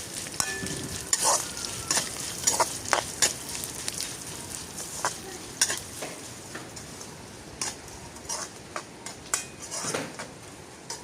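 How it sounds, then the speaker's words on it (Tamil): Crushed garlic sautés in hot oil with onion, curry leaves and mustard seeds for a Sri Lankan tinned-fish curry, a steady sizzle broken by repeated sharp clinks and scrapes of a spoon stirring against the pan. "இடித்து வச்ச உள்ளியையும் சேர்த்து வதக்க போகிறோம்"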